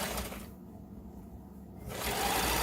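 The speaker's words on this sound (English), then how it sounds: "you just continue to sew the band onto the dress" A sewing machine runs as a band is stitched onto a circle skirt, a close, even mechanical whir that stops briefly in the middle and then starts up again.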